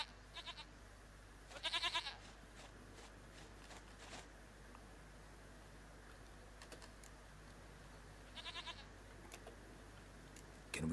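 A goat in the video game The Witcher 3: Wild Hunt bleats in two short, bright bursts a few seconds apart. Soft keyboard typing clicks run faintly underneath, and no one speaks.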